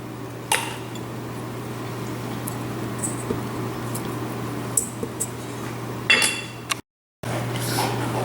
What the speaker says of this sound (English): I'm just going to cut the butter up so that it breaks up easier